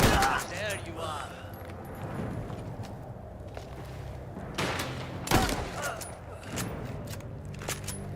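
Scattered gunshots crack out in a mafia video game set in an old country, a few sharp isolated shots among game noise and a speaking voice.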